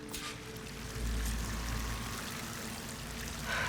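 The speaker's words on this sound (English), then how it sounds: "That waterfall must be coming from somewhere." A waterfall in the video game Horizon Forbidden West gives a continuous rushing roar of falling water, steady and moderately loud, with no speech.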